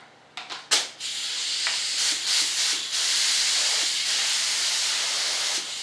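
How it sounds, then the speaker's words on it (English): A spray can sputters twice, then releases a loud, steady hiss of primer onto a model F-105 Thunderchief RC jet, the close spray wavering slightly before holding for several seconds. "let's squirt some primer on this dude."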